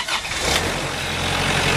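A Bad Boy riding mower's engine turns over and settles into a steady, loud idle that continues close by without talk.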